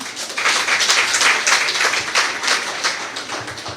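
An audience applauds at a gathering with steady, dense clapping that stays close and fairly loud for a few seconds, with no voices over it.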